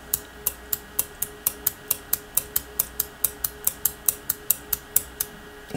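An APL-8 bimetallic thermal relay built in 1965 clicks sharply and evenly, about eighteen crisp ticks at a steady rhythm over a faint hum, close up and with no voices.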